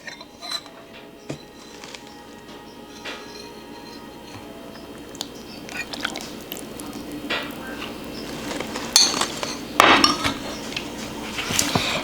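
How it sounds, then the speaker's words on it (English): Fork scraping and clinking in a bowl while working crumb topping for an apple crumb pie, a soft steady patter of small taps and scrapes close by, with a few louder clacks toward the end. "You kind of form the crumbs with the fork."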